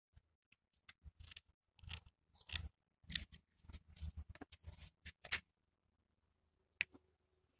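Scissors cutting a plaster of Paris bandage strip for splinting a rabbit's fractured leg, a series of crisp close snips in uneven bursts, quiet overall and ending with a few isolated clicks.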